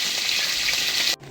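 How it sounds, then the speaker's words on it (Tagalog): Steady, bright sizzling of food frying in a pan, close and continuous, cutting off abruptly near the end. "habang nagpiprito ako"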